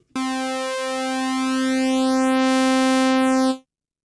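A single steady synthesizer note from a Yamaha MODX M or Montage M holds for a few seconds, its tone slowly shifting with a faint swirling phasing from two detuned unison voices, then cuts off.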